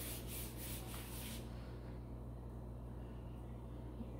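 A hand rubs seasoning onto a steak, giving a soft, close brushing rustle in a few quick strokes before settling into a faint, steady background.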